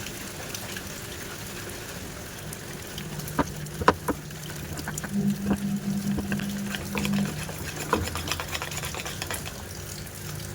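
Flour is mixed into banana pancake batter in a bowl: soft, quiet stirring with a few sharper taps of the utensil against the bowl, close by, and no talking.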